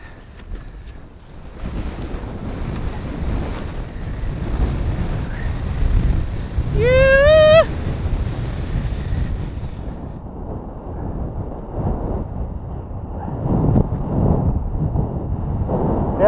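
Strong gusting wind roars across the microphone over choppy water and waves during wing foiling in extreme cold, a loud steady rush that swells and eases, with a brief rising whistle-like tone partway through.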